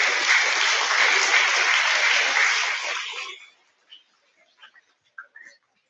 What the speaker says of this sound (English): we will do a collective clap for the whole grade level